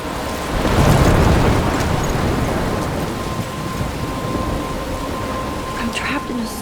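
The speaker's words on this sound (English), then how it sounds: "I'm trapped in a storm?" Heavy rain and a thunderstorm in the Life is Strange video game, with a steady loud downpour and low rumbling thunder that swells early and then settles into a constant roar.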